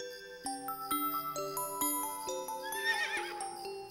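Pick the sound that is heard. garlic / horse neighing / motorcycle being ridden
horse neighing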